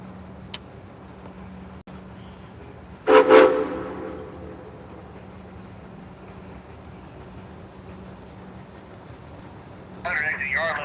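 Norfolk Southern locomotive NS8103 moves near Grand Junction, sounding two loud horn blasts several seconds apart over a low, steady background hum.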